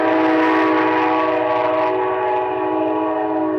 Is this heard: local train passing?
yes